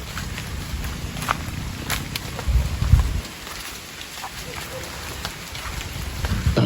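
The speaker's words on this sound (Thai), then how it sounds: "ฝนเนี่ยกำลัง จะทยอยตกลงมาอย่างแรงเลยนะครับ" Steady rain patters down throughout, with a low thump of footsteps partway through and no voices.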